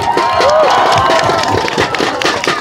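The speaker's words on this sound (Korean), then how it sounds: "큰 박수 보내주시기 바랍니다" At a school in Mungyeong, a crowd of students bursts into loud cheers, whoops and clapping for their team, with shouting voices layered over continuous applause.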